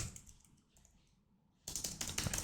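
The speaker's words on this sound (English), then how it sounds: "My typing is atrocious today." Typing on a computer keyboard: a few soft key clicks, a quiet gap, then a dense, louder burst of rapid clacking near the end.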